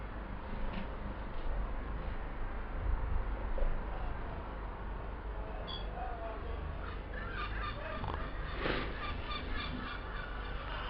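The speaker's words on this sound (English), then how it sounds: "Seagulls are hovering." Seagulls call above a cricket ground during a day of a county match, with scattered squawks sounding over a steady outdoor wash and growing more frequent toward the end.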